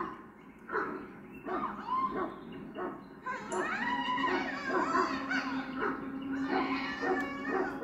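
Mabari war dog from the video game Dragon Age Origins, heard as a run of barks, growls and whimpering calls that rise and fall over a game soundtrack, close and fairly loud throughout.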